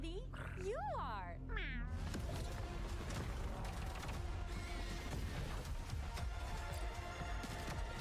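A cat heard in an Overwatch 2 game stream, giving a couple of short rising and falling meows at the start before louder, busy game noise and talk take over.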